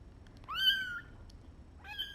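Tiny orphan kittens with upper respiratory infection mew twice, a rising high-pitched cry followed by a shorter second call, close and clear over a quiet background.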